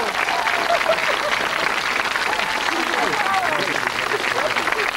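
A game show studio audience applauds steadily and loudly throughout, a dense, continuous wash of clapping with no pauses.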